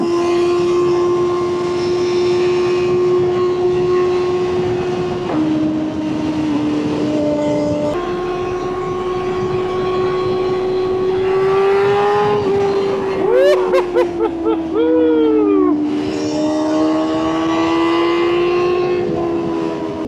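A BMW M1000R motorcycle with an Akrapovic titanium exhaust revs hard and close, a sustained howling engine note that holds, dips and climbs again, with a burst of sharp pops and crackles partway through.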